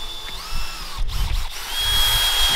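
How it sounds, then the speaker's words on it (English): A power drill or driver unscrewing bolts in a car engine bay, a steady close whine that rises and falls in pitch with brief pauses, then picks up again. "Unscrew these bolts then."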